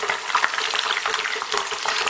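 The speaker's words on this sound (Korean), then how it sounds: "이때 두부를 튀기듯이 지지는데" Tofu fries in hot oil, a close, continuous bubbling sizzle with busy crackles and light stirring or shifting sounds throughout, and no talking.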